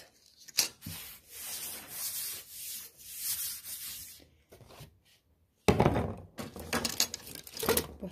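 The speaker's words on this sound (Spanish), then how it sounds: "Posteriormente procedo a cortar la cuarta cara de nuestra pirámide." A utility knife cuts through a cardboard pyramid face with close, scraping strokes in repeated bursts, a short pause, then a louder stretch of rough cutting.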